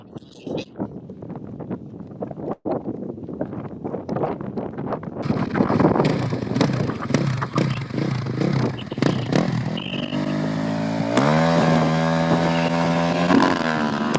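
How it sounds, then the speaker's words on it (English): A KTM 450 rally motorcycle launches off the start line at a desert rally stage in Abu Dhabi, its engine rising to a loud, revving roar amid strong wind noise, with a commentator talking over it. "Next off the line is going to be Andro on a KTM 450 from Chile as well."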